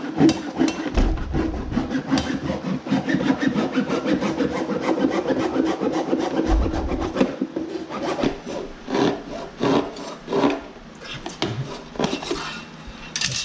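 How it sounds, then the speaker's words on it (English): A wood saw cuts through an engine intake with rapid, rough back-and-forth rasping strokes, loud and close. Occasional clanks and brief pauses break up the sawing. "I'm now using a full-on wood saw."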